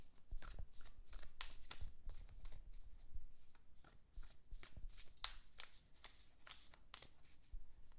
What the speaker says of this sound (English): So I'm going to give this a good shuffle